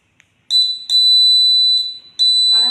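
A two-wheeler safety sensor alarm rings in loud repeated bursts, a piercing, sustained shrill electronic tone with short gaps, followed by a faint rattle.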